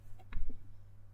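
A computer mouse clicks a few times in quick succession during mapping work on a computer. The clicks are light, close and short, over a low, steady hum.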